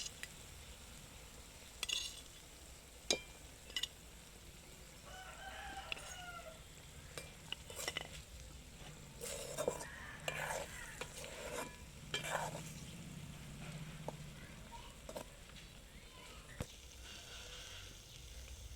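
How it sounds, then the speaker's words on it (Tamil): Boiled eggs are tossed through masala gravy in a pan during outdoor village cooking, giving soft scraping stirs and a low sizzle over steady outdoor ambience, with roosters crowing in the distance. "முட்டையை அலேக்காக பெரட்டி விட்டுக்கலாம், மசாலா இதில் படுற மாதிரி."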